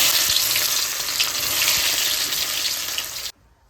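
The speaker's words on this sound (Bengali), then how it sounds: "ফোড়ন দিয়ে দিয়েছি এবার তেলের উপরে পেস্টটা দিয়ে দেবো" Spice paste hits hot oil for a goat curry, giving a loud, steady sizzle that runs unbroken for over three seconds before cutting off abruptly, with faint scrapes underneath.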